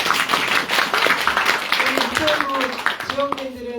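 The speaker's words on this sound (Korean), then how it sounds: "박수 한번 쳐주십시오" Audience clapping at a Democratic Party political talk event, a dense burst of applause from a crowded room mixed with voices and chatter throughout.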